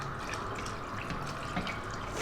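Cold water running and splashing steadily into a pot for spicy Indian lentil soup, a continuous close trickling pour with faint drips, no voices.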